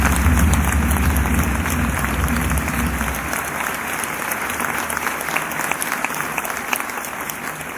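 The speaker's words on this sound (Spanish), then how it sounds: "pido un fuerte aplauso" A founding assembly crowd breaks into loud, sustained applause, a thick continuous roar of many hands clapping close by, with a low rumble fading out partway through and no voices on top.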